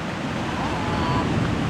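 Steady wind roars by the shore at a campsite in San Narciso, Zambales, as rain begins, a broad continuous rush blended with the wash of surf, loud and unbroken throughout.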